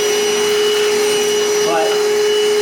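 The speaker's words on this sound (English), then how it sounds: "my first impressions as far as the noise level, it is pretty tolerable" Milwaukee cordless wet/dry vacuum, model 0880-20, running nearby with a loud, steady whining motor hum and airy rush throughout.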